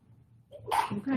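A single sneeze bursts out over a low murmur of background voices at a board of education meeting, fairly close and moderately loud.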